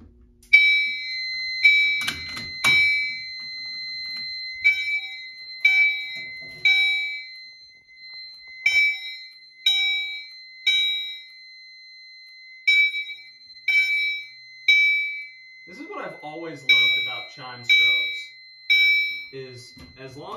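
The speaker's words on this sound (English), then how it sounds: "Anyway, here come the doorbells." A home fire alarm demo system with chime strobes rings in repeated doorbell-like two-tone dings in a steady pattern, alone at first, with a voice talking near the end.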